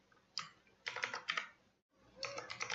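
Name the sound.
typing on a computer keyboard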